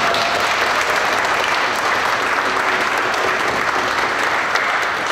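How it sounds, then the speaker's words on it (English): Steady, dense applause from an audience at a car giveaway event, loud and unbroken from start to finish with no voices standing out. "let's give our dream team a big round of applause"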